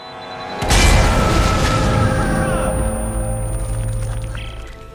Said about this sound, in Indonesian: dalam sekejap, terjadilah sebuah ledakan